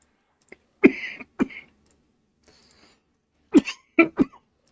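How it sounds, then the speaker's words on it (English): A person gives a few harsh coughs close up in a quiet room: one rough cough with a short follow-up, a pause, then a quick burst of three more. "I'm having my own intricate cough right here."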